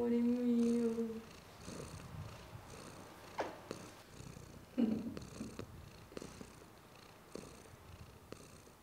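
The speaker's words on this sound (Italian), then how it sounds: "il nome vero della Micia non è la Micia tutto attaccato, ma all'anagrafe felina l'hai registrata come Fujifilm" A cat purrs at close range, a steady rhythmic rumble that pulses in regular cycles across the clip, with brief vocal sounds near the start and a few small knocks.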